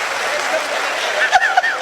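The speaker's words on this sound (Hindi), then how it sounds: "भैया ताली गूंजनी चाहिए, कमाल की बात है।" Audience applause at a Haryanvi comedy show rises as a dense, steady patter of clapping, with a few brief voices and laughs over it near the end.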